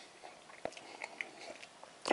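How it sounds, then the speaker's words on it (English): Someone chews a PLA special combat food ration, making a few soft, close crunches and bites spread through a quiet moment, ending in a slightly louder burst. "This stuff could last forever when you chew it."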